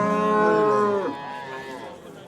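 A cow at a livestock market gives one long, loud, close moo that drops in pitch and fades out, with no talking during the call.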